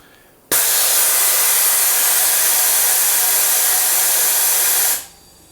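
A homemade air pressure booster's piston drives compressed air in one loud, steady hissing rush that starts abruptly, holds for about four seconds, then tapers off.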